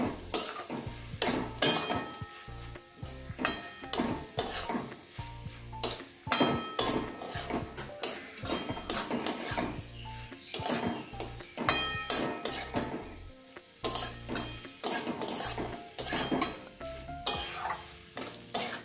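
A spoon stirs an egg and soyabean roll filling with garam masala in a metal pan, giving a rapid series of sharp scraping clinks and knocks in an irregular rhythm, close and fairly loud over a faint sizzle.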